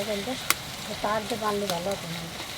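Onions fry in a pan with a soft, steady sizzle while a person talks over it, and a sharp clink rings out once early on.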